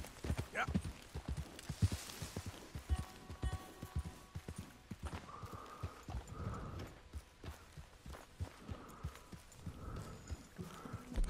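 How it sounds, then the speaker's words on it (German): Horse hooves clip-clop steadily in Red Dead Redemption 2, a rhythmic run of close, distinct footfalls with a faint background ambience and occasional tonal game sounds. "Wir erlauben unserem Pferdchen mal kurz eine Pause."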